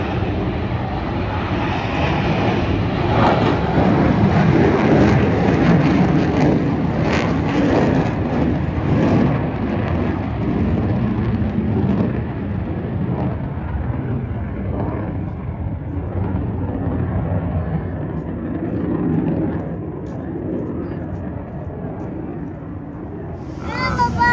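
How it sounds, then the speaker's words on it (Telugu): Fighter jets perform maneuvers at an air show near homes in South Korea, a loud sustained roar that swells and slowly fades, with voices faintly underneath. "ఫైటర్ జెట్సే ఇప్పుడు వాటి యొక్క విన్యాసాలని స్టార్ట్ చేస్తున్నాయి"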